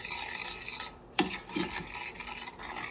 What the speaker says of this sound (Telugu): ఇప్పుడు నేను ఈ ఓట్స్ తీసుకుంటున్నాను, క్వేకర్ ఓట్స్ ఓల్డ్ ఫ్యాషన్డ్. ఓకేనా, సో ఇందులో మెల్లగా వేస్తూ కలుపుకోండి